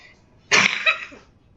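A single sharp cough, close and loud, followed by a brief raspy tail, then quiet.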